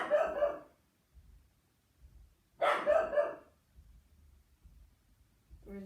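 A dog barks twice indoors in a quiet room, two short bursts a couple of seconds apart, with faint low thumps and room noise between them.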